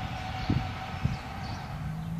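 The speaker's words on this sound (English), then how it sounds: "And now there's a fucking train passing." A train passing nearby outdoors, a steady low rumble with faint clanks and a brief high whine, heard alone at moderate level throughout.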